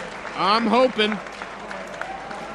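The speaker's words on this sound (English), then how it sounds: "Great round of applause for both fighters." Crowd applause at a boxing fight night fills the background while a loud voice shouts briefly over it, then the clapping continues at a lower, steady level.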